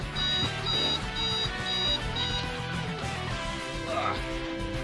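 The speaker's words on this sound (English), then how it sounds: "That was an alarm going off" An alarm goes off with a run of five quick, evenly spaced high electronic beeps, fairly loud, over background music with some talking.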